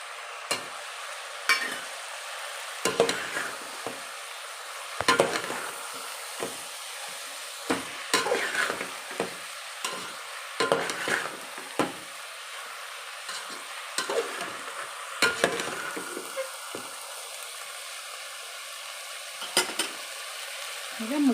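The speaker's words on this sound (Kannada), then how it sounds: "ಫ್ರೈ ಮಾಡ್ತೀನಿ ಮಸಾಲೆ ಎಲ್ಲ ಹಾಕ್ತಾ ಇದ್ದೀನಿ" Masala with coriander and mint frying in a pan for soya vegetable pulao, a bright steady sizzle broken by repeated scraping stirs of a spoon at an irregular rhythm, close and fairly loud, no speech.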